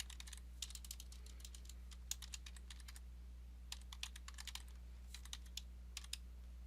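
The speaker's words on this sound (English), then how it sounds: "So you just type in your username." Keys clatter on a computer keyboard as a password goes in, quick bursts of light clicks separated by short pauses over a faint low hum in a quiet room.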